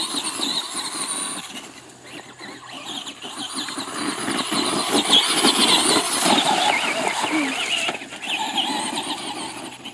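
A Traxxas Bigfoot RC truck with a 12-turn brushed motor runs outdoors, its whine surging and easing over about ten seconds alongside rough scrabbling and squeal-like bursts as it moves.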